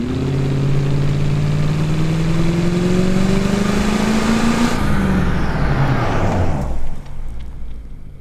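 A loud, steady car engine drones and hums with rising pitch, then the sound abruptly shifts and fades into a lower rumble.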